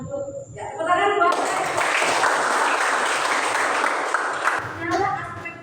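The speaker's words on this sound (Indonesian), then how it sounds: "tepuk tangan buat" A classroom of children breaks into lively clapping for about three seconds, loud and dense, with talking just before and after.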